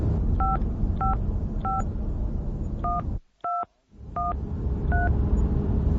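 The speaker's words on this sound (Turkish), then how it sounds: "Cep telefonundan Ağa'yı arayıp müjdeyi vereyim hemen." A mobile phone dials with a quick series of about eight short keypad tones, evenly spaced over steady background noise, with a brief quiet gap partway through.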